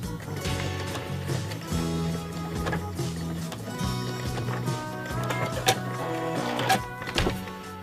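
A sewing machine stitches a drawstring bag with a steady mechanical hum and clatter, its motor pitch rising and falling as it runs in short bursts with brief pauses.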